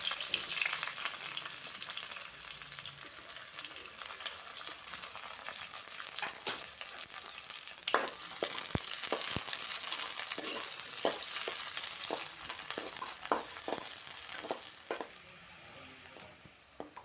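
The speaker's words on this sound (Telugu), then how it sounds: "ఆయిల్ హీట్ అయిన తర్వాత ఇప్పుడు ఇందులోకి వచ్చేసి మనము ఆనియన్స్ అయితే వేయాలండి." Sliced onions frying in hot oil for a ridge gourd curry, a steady close sizzle with scattered scraping and stirring clicks that carries on for most of the stretch, then dies down near the end.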